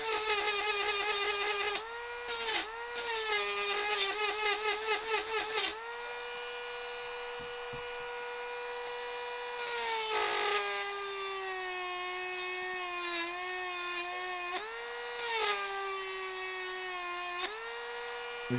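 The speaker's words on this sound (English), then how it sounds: "It is basically a dentist drill." A high-pitched rotary drill like a dentist's drill whines steadily, rising and falling in pitch as it starts and stops in several bursts over a low background hum, fairly close and loud.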